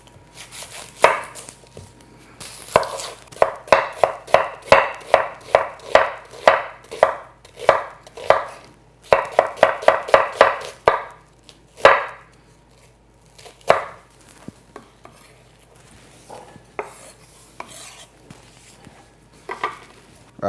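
Half an onion is chopped with a knife on a cutting board: rapid, steady knife strikes in bursts, with a few pauses and scattered taps, close and clear with no talking.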